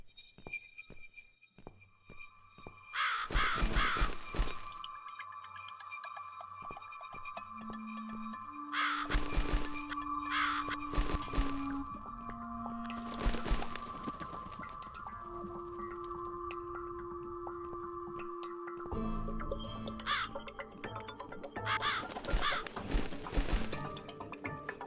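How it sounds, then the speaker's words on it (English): A crow caws several times in The Cat Lady video game, harsh calls sounding over droning, eerie game ambience with occasional heavy thuds. "Am I following the crow?"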